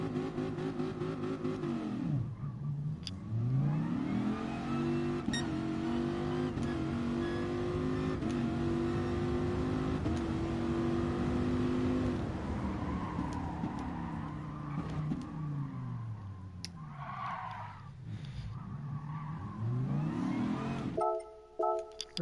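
Dodge Viper in a GT Sport quarter-mile drag race, engine revving hard then climbing through gears with rising harmonic whine and shift dips, loud and continuous throughout with no talk.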